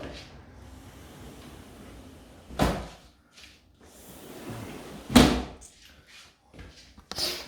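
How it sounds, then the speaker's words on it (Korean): A window is shut indoors on a rainy day, with two solid sliding thuds a few seconds apart and quiet background between them. "창문을 닫고."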